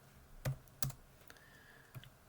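Code being typed on a computer keyboard during a Java programming lesson on operators: a few sharp, isolated key clicks, close and fairly quiet, with long pauses between strokes.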